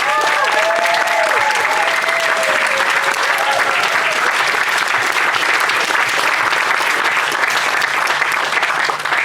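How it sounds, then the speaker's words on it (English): Festival crowd at the Sounds Beautiful Festival gives the organisers a big round of applause, loud dense clapping sustained evenly throughout, with a faint voice or tone briefly audible early on. "round of applause?"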